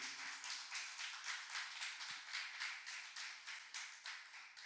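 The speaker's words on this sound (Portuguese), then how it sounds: "Pode aplaudir ao Senhor no nome de Jesus." A church congregation applauds during a Portuguese-language worship service, a steady wash of many hands clapping at a moderate distance, with rhythmic pulses that slowly fade toward the end.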